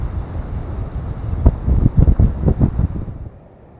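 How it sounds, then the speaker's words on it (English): Wind gusts buffet the microphone at a spring campsite, a loud low rumbling roar that swells in bursts before dropping away near the end. "She's a tad breezy."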